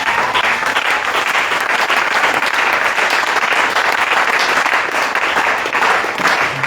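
A church congregation applauding for the Lord, sustained dense clapping from a large crowd filling the room, loud and steady throughout.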